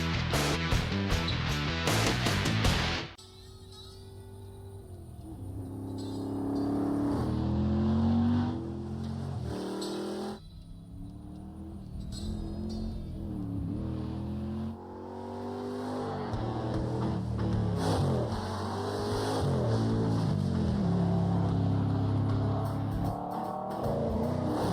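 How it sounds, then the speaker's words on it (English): Drag race car with Flowmaster Super 40 mufflers at a drag racing event, loud roaring exhaust that revs hard, drops off, then builds again in sustained booming pulls, close and dominant throughout. "Flowmaster Super 40 mufflers, the sound of great American performance"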